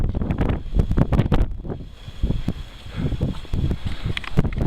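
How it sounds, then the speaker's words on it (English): Wind on the Mount Washington trail near the summit observation deck on a chilly day: heavy gusts buffet the microphone in loud, irregular thumping bursts over a constant roar. "chilly and windy"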